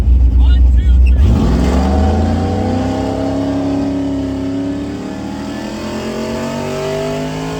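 Racing pickup truck engines, an LS-swapped OBS Chevy and a Ford Lightning, roar close by, revving hard as they pass, then the pitch slides down while the drone fades into the distance.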